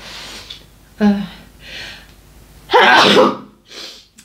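A close, loud sneeze bursts out after a few sharp breaths and a gasp, followed by a quieter exhale.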